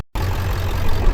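A Ford 7.3 diesel truck engine idles roughly and misfires, a deep, uneven, pulsing rumble heard up close after a brief gap of silence.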